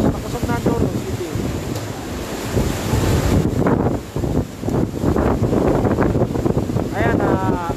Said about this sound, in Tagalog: malakas na ang hangin mga kapatid dito sa location natin sa Naga City Police Office